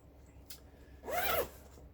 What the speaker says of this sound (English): Zipper works just fine.